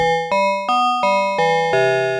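A synthesized metallic bell plays six evenly spaced struck notes, each with a sharp attack and bright inharmonic overtones. The pitches step up and then back down, and the tones ring on with a slow decay. No voice is heard.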